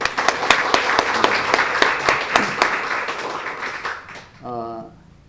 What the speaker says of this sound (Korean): 우리 청년들을 위해서 박수 한번 할까요?